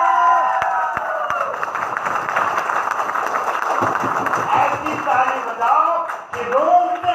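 A live audience at a Nex Money business event in Delhi claps and cheers together, a dense, steady crowd noise with shouts rising over the applause and continuing throughout.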